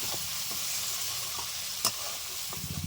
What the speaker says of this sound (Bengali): মশলা ভালো করে কষে নেব